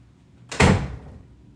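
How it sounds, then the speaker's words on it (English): A door is pushed shut with a single solid thud that fades quickly, alone in a quiet room. "Please shut my door."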